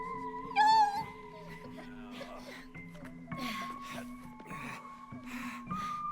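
A cat in the co-op video game It Takes Two lets out one loud, high meow near the start, then game music and effects carry on beneath it.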